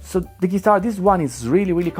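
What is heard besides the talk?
No everyday noises stand out.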